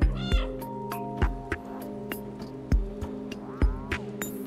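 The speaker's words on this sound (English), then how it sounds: "Still gonna keep meowing." A cat meows repeatedly in the video game Stray, short close calls spaced about a second apart over a steady humming game background, with soft chimes and no talk.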